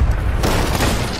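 Cannon fire from a rowboat in a naval video game, one loud booming blast followed by a dense, rumbling roar that fills the whole moment, close and heavy with no talk.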